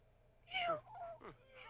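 A house cat gives a short, close meow followed by a softer second cry, both brief and clear over a quiet room.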